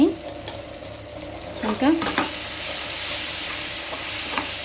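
An onion and egg curry (pulusu) is stirred in a pan after the lid comes off, with a few scraping stirs near the start over a continuous, loud simmering sizzle; a voice briefly speaks.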